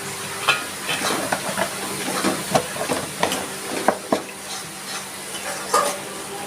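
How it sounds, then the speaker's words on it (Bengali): Prawns rubbed with salt and turmeric frying in a spice masala, a soft sizzle and hiss with a spatula scraping and tapping the pan in an uneven rhythm, close and alone with no talk. "এবার আমি এই মশলার মধ্যে দিয়ে দিচ্ছি চিংড়ি মাছ।"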